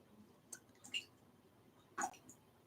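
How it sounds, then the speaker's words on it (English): Water drips from a leak in a living room, a few faint, scattered drops falling in an otherwise quiet indoor space. "maybe you can hear the drip of the leak"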